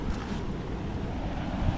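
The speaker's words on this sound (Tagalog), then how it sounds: "grabing hangin yan" Strong wind buffets and roars across the microphone at a river in a continuous, rough rush, with a hint of water and boat noise beneath.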